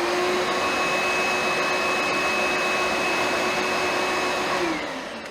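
A shop vacuum fitted with a Dust Deputy 2.5 cyclone separator runs steadily and loudly with a constant whine, then begins spinning down near the end.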